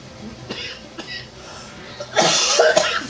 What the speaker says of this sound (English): Sorry for coughing